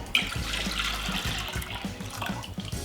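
Cold water and beef consommé are poured for a gelatin mold, a short, steady splashing pour in a kitchen, close and moderately loud.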